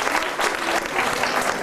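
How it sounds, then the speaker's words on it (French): Audience applause at a French journalism festival gathering, a dense, steady wash of clapping from a crowd, moderately loud and continuous with no talk over it. "vous pouvez l'applaudir, Hervé Chabalier."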